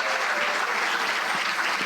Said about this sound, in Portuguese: Eu quero pedir a você que aplauda Jesus pela vida deles